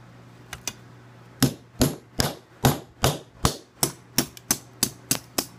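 A ball peen hammer striking the back of a knife blade: two light taps, then a steady series of about a dozen sharp, loud metallic blows at a quick, even rhythm, close by with no talk.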